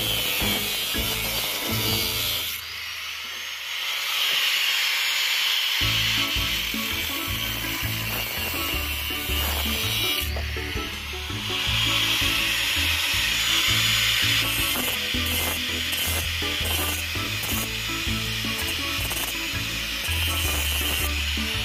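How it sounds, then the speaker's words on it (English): A grinder cuts into a conch shell, producing a loud, continuous abrasive grinding and rubbing noise with shifting pitch and brief dips as the blade bites in, close to the microphone without talk. "This saw's taking too long, so I got the grinder on."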